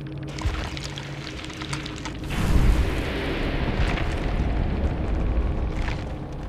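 A cannon fires and explodes in an Xbox One video game, a deep rumbling boom swelling midway and then rolling on under a constant noisy battle backdrop.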